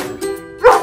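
A cartoon dog character named Diggy Dog gives a short, bright bark or yip, one burst near the end after a faint tonal lead-in, close and fairly loud, with no talking.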